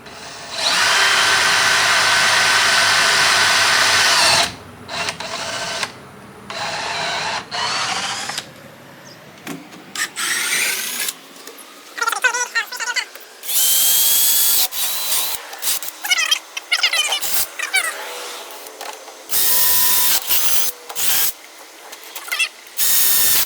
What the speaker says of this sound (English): so I'll drill it up to about here, just enough for some corn to be able to get out of